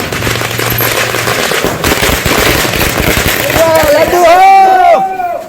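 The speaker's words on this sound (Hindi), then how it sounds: "कहीं आतिशबाजी हो रही थी" Fireworks and firecrackers crackle in rapid bursts at a street celebration in Bihar after Nitish Kumar's oath ceremony, loud and continuous amid crowd noise, with rising whistling rockets toward the end.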